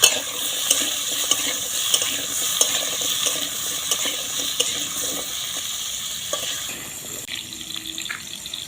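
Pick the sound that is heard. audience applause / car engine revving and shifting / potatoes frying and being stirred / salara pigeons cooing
potatoes frying and being stirred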